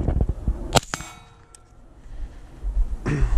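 Bullets strike steel plate targets fired from an SR-15 rifle with a flow-through suppressor, producing two sharp metallic clangs with ringing tails, then a quieter pause before another burst of impact noise near the end.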